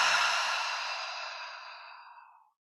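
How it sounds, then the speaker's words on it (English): A long, slow exhale through the open mouth during a yoga flow, a soft breathy rush close to the mic that fades gradually to silence over about two and a half seconds. "Open the mouth, exhale."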